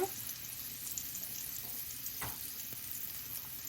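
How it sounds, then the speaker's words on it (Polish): Sliced carrot rounds frying in a heaping spoonful of melted coconut oil in a cast-iron pan, a steady close hiss and sizzle with a couple of soft stirring scrapes. "na której sobie rozpuszczam taką naprawdę kopiastą łychę oleju kokosowego. I teraz wrzucam po pokrojoną w talarki marchewkę."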